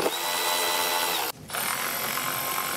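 Power tool spinning out the two T30 Torx bolts that hold the timing cover to the valve cover on a MK5 GTI, a steady loud buzzing whir that cuts off briefly near the middle and then resumes, heard up close.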